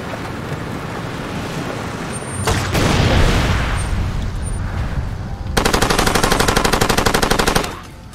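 A vehicle-mounted autocannon on a truck in Far Cry 2 fires, with a heavy boom and roar first, then a loud, rapid rhythmic burst of shots for about two seconds before it stops.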